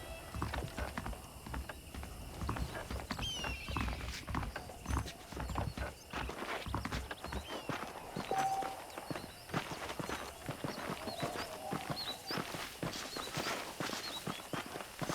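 Horse hooves clip-clop steadily on the ground in Red Dead Redemption, a continuous walking rhythm close by with occasional mechanical rattles and a faint whinny, and no voices.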